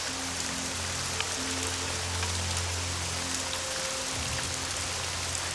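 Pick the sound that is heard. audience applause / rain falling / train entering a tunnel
rain falling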